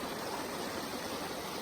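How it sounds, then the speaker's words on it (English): Creek water flows steadily along a trail crossing where a bridge once stood, a soft continuous rushing murmur, fairly quiet and even throughout. "We are at some creek before our site."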